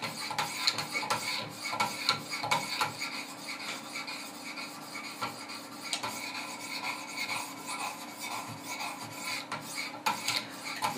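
A Wicked Edge guided sharpener draws 600 grit stones along a Benchmade 940 knife blade in steady, repeated rasping strokes, close and fairly loud, with no voices.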